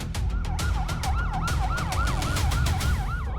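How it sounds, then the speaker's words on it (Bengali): A wailing ambulance siren sweeps up and down steadily and loudly, close by, over a dense rumble of street traffic, with no talking. "অ্যাম্বুলেন্স।"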